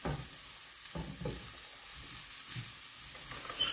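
Small mushrooms cooking in a pan, giving a soft continuous sizzle with a few stirring movements, close and fairly quiet, with no one speaking.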